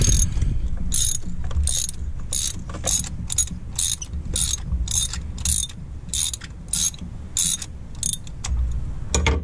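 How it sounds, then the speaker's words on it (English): A ratchet wrench clicks in rapid, regular bursts while removing spark plugs from a Ford Escape Hybrid engine with about 115,000 miles, close and steady with low mechanical rumble beneath. "Let me get a spark plug wrench."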